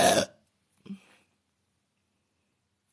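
A woman burps once loudly and close at the start, followed by a short, softer throaty burp, then near silence.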